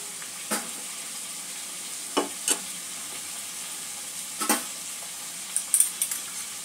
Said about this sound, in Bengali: পেঁপেটা মিনিট খানেক আমি ভেজে নিয়েছি